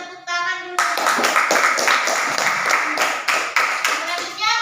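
Classroom applause from a group of students, dense clapping that fills the room loudly after a teacher's brief spoken prompt, with the clapping continuing steadily and unevenly to the end.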